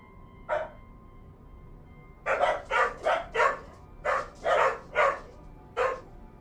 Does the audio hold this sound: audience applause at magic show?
no